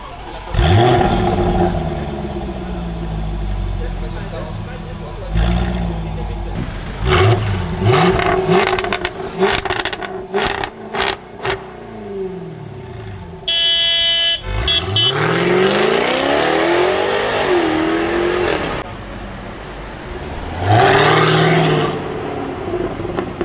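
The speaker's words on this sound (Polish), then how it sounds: "Mówimy tutaj o Jaguarze F-Type z 5-litrowym silnikiem V8, który generuje 495 koni mechanicznych, a brzmi on tak" A Jaguar F-Type's 5-litre, 495-horsepower V8 engine revs repeatedly, rising and falling in loud bursts with crackles between pulls, plus a brief horn-like tone midway.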